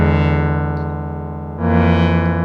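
Several badly detuned synthesizer voices from a disting EX MIDI player sustain a harsh, beating chord that shifts once midway, loud and continuous with no talking.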